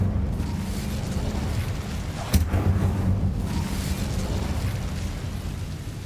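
A fire spell goes off in Hogwarts Legacy with one sharp burst, then a dense roaring rush that stays steady and loud throughout, with no voices.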